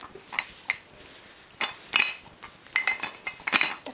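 A ceramic teapot is slipped into a machine-knitted tea cosy, giving several soft clinks and knocks of china in an irregular, close-up series against a quiet room.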